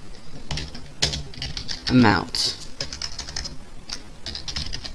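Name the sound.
typing on a computer keyboard while programming Java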